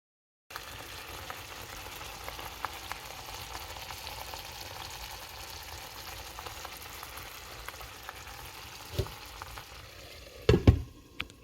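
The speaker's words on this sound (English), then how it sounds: "I'm going to let that simmer for about 7 minutes just to get those flavors going and the broth cooked down a little bit" Vegetable broth simmers in a pan, a low steady bubbling hiss that holds evenly, then ends in a couple of louder clanks near the finish.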